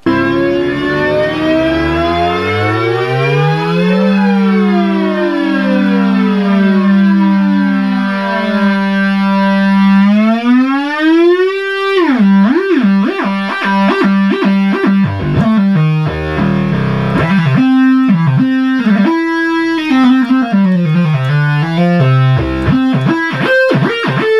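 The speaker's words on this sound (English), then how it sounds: "when you hit mono mode and play a note, you'll hear all those glides go down." A Memorymoog analog synthesizer in mono mode sounds a long sustained tone followed by a cascade of descending pitch glides and rapid swooping notes, loud and buzzy with a siren-like sweep, no voices.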